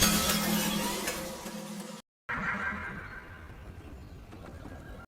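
A horse at a riding place whinnies loudly and at length, then cuts off. Faint hoof clatter and outdoor rustle follow the call.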